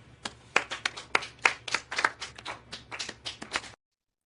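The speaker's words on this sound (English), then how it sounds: "Let's all start clapping." Hands clapping during a casual podcast conversation, a dozen or more uneven sharp claps from what sounds like one or two people, fairly close and moderately quiet, ending abruptly into silence.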